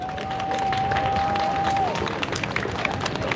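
An audience at a rally in Sacramento applauds steadily, a dense wash of clapping with a brief held electronic tone at the start.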